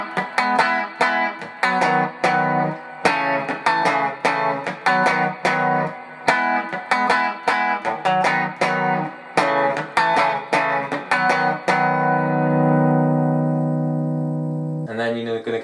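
Acoustic guitar strumming the chords of a song, a steady rhythmic strum pattern of bright chords that ends on a long ringing chord followed by one final strum.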